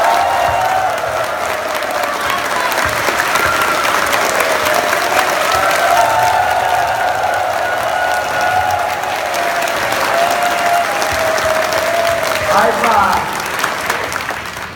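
Sustained audience applause at a business training event, loud continuous clapping from a large crowd with sung or spoken voices carrying over it, lasting throughout.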